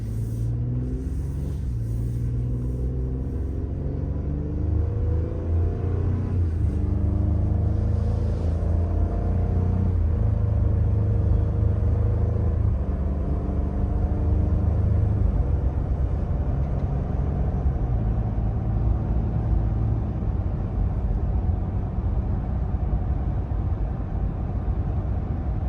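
A Ford F-150 pickup truck cruises at light throttle on a lawn care route, its engine a low, steady rumble with road noise that swells slightly mid-drive, close and continuous with no talk.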